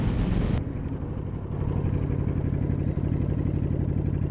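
A Honda Shadow 750 motorcycle engine pulls hard and close, a loud steady throbbing drone after a brief initial roar, with no talking.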